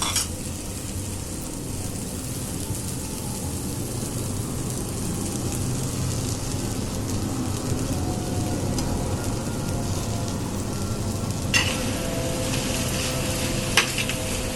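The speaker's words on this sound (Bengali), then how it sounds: "এই পর্যায়ে ভেজে রাখা ডিমটাকে আমি আবার এই শাকের সাথে মিশিয়ে দিব" Fried egg being stirred into sautéed sweet potato leaves in a hot pan, a steady sizzle running throughout with occasional scrapes of the spatula, close and continuous, with no talking.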